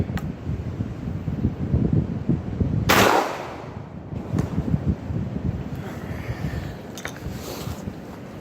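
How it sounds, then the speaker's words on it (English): A single sharp, loud shotgun blast from a Hatfield SGL .410 fired outdoors at a wooden target, standing out from steady wind noise. "So let's take a couple shots."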